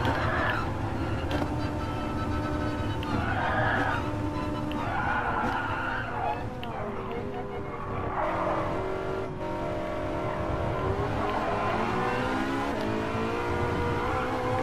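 A tuned 900 hp Ferrari 458 accelerates hard while overtaking traffic, its engine a loud, continuous roar that climbs and falls in pitch through gear changes.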